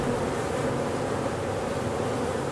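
A dense, steady buzz of many bees around city rooftop beehives, droning continuously, loud and close, with no pauses and no voices.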